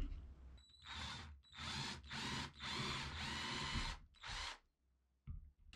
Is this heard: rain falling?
no